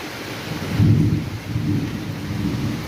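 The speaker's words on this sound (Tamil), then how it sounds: "இடி விழுகுது அப்போ, அநேகமாக இன்னையும் மழை வரும்னு நினைக்கிறேன்." Heavy rain pours steadily outdoors in Kerala while a deep roll of thunder swells and rumbles underneath, loud and close, with no voices.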